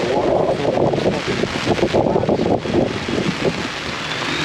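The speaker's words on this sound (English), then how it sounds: "Now it's windy and raining." Wind and rain outdoors at the Carlisle Truck Nationals, gusty buffeting against the microphone over a constant patter of rainfall, loud and close with no speech.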